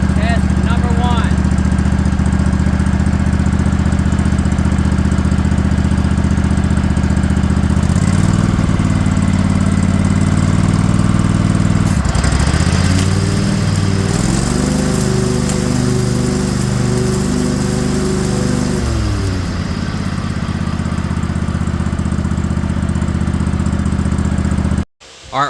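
A Craftsman LT1000 lawn tractor fitted with a 20hp Kohler engine and a 48-inch mowing deck runs close by, a loud steady drone that deepens as the deck engages, dips briefly, surges, then settles before shutting off abruptly.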